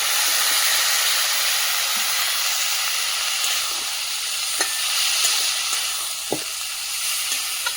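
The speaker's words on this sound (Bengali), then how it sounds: "চিংড়ি মাছটা ভাজা হয়ে গেছে, বিটুলি আর আলুগুলো দিয়ে দেবো" Shrimp fry in a pan as potatoes are added, with a loud, steady oily sizzle and hiss throughout and occasional light clinks of a stirring utensil.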